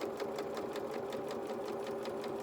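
A sewing machine runs a 2.2 construction stitch along a seam of a shorts or dungarees garment, with a steady fast rhythmic needle clatter heard close and continuous, no pauses.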